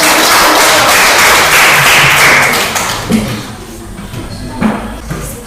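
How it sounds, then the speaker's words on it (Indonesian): A classroom bursts into loud, dense applause for a student group, the clapping sustained for a few seconds before thinning into scattered claps and soft voices. "Oke, tepuk tangan untuk kelompok"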